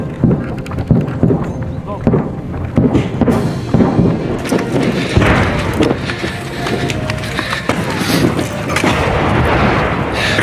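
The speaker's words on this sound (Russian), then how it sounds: "Услышав первые разрывы снарядов," Artillery shells burst in a war zone during fighting in a built-up area, heavy booming impacts and rumbling blasts that come repeatedly over a continuous roar of battle noise, loud and close.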